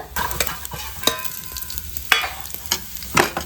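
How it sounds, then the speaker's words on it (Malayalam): Raisins fry in a pan for cherupayar parippu payasam with a steady oily sizzle, broken by several sharp scrapes and knocks of a spoon stirring close by. No one speaks. "നമ്മുടെ മുന്തിരിങ്ങായ ഇവിടെ നന്നായിട്ട് മൂത്ത് വന്നു"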